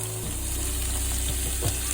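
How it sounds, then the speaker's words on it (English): Steady crackling sizzle of vegetables frying in hot oil, loud and close, continuous throughout with a brief hiss as food hits the pan. "So I'm going to put all my vegetables in the oil."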